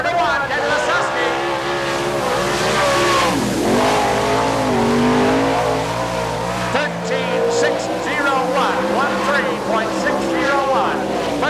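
The number 1 sprint race car runs a qualifying lap at an All Star Circuit of Champions Winternationals event in Gibsonton, Florida. Its engine roars and revs loud and steady through the lap, rising and falling as it passes, with an announcer talking over it.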